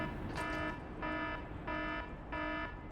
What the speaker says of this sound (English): Of all the alarm sound effects that you could have found,